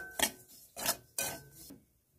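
A spoon scrapes a pan as semolina is stirred and fried with milk. Three short, fairly quiet rasping strokes come close together, then silence.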